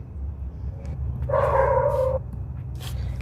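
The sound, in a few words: dogs barking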